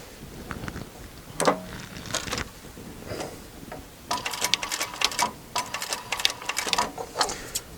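A sewing machine stitches an upholstery wing with piping in short runs, with rapid mechanical clatter in bursts, louder and denser in the second half, alongside fabric handling.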